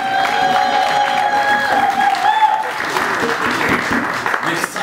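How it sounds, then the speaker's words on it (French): Audience applause at an event in Brussels announcing a concert, with steady clapping and some crowd noise sustained throughout, alongside tonal music or voices underneath. "le président de l'Assemblée bruxelloise, que je vous demande d'applaudir"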